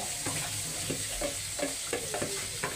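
Boiled pork innards sizzle in a pan with a steady, quiet frying hiss, broken by short scraping stirs at a regular pace, close by and with nobody talking.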